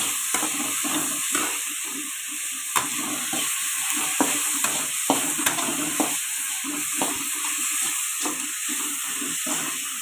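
Frying egg mixture in a pan with fine powdered salt added, a continuous sizzle and hiss broken by scraping spoon strokes and light clacks against the pan, close and steady.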